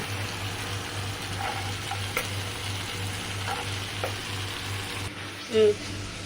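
Soaked, boiled peas go into a frying pan and sizzle steadily with occasional stirring scrapes, and a brief louder knock comes near the end.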